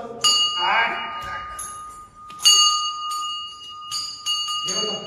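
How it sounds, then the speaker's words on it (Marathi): A temple bell at a Durga temple is struck several times, each clear metallic ring lingering and fading, close by, with faint voices around it. "छान बेल वाजव. बेल वाजव."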